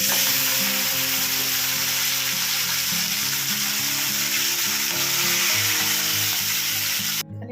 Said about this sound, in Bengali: আর এখন একটা মাছ ভেজে নিতে হবে